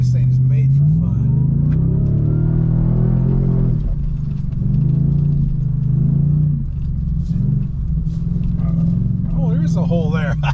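A 2023 Ford Raptor R truck engine rumbles and revs through paddle-shifted gears on sugar-sand dunes, a steady low drone rising and falling with each shift, with someone talking over it.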